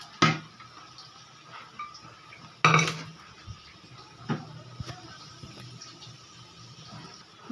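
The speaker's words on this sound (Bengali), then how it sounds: "সেদ্ধ করা ছোলার ডালটাকে দিয়ে দিলাম।" Boiled chana dal is tipped into a pot of khichuri with potatoes and Gobindobhog rice, giving two sharp metallic clanks of utensil on pot followed by softer scraping and light clinks, with no talk.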